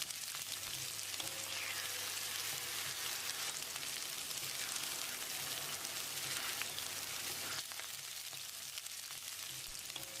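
Drumstick pieces and ground roasted masala for mutton curry sautéing in a pan, a steady close sizzle with occasional stirring scrapes and no talking.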